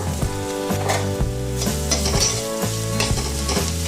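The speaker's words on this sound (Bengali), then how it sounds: "একটু জাস্ট তেল আর বাটারের মধ্যে পেঁয়াজটাকে আমি একটু নেড়ে নেব আমি এর মধ্যে দিয়ে দেবো ঠেচা মশলা" Onion fries loudly in oil and butter with thecha masala, while a spatula scrapes and stirs in rhythmic strokes roughly every half second, close up and continuous without speech.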